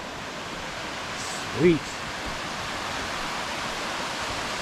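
A waterfall beside a Smoky Mountains trail on the Appalachian Trail near Cosby Knob makes a steady broadband rush throughout, with a brief spoken exclamation partway through.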